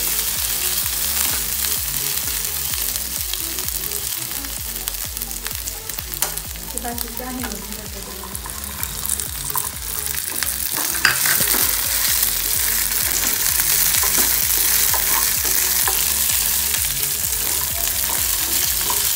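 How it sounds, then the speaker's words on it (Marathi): Biscuit cutlets fry in hot oil with a steady, dense sizzle and crackle, stirred now and then, close and continuous throughout with no talking. "हे चांगले तेलामध्ये भाजून घ्यायचे"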